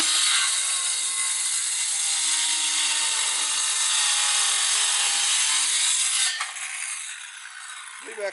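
A Craftsman 19.2V cordless power saw cuts through a wood board with a continuous close rasping whir. Near the end it spins down, the sound drops, and a short clunk follows.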